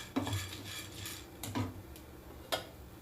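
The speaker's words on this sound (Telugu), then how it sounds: "శనగబేడలు బాగా గోల్డ్ కలర్ వచ్చే వరకు వేయించుకోవాలి" Chana dal being roasted in a pan while a spoon stirs it, giving a few close metallic scrapes and clinks against the pan at an irregular pace, alone with no voices.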